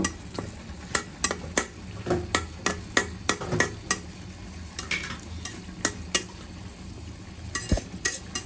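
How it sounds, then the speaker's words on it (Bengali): Two or three bay leaves, with cloves and cardamom, stirred in hot oil in a pan, a regular rhythm of sharp spatula taps and scrapes against the metal over a faint background sizzle. "তারপরে দিচ্ছি 2-3টা তেজপাতা। এভাবে একটু হালকা নেড়ে ছেড়ে দিব।"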